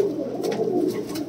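A pigeon coos close by in a soft, throaty, rolling murmur that stays continuous across the short stretch.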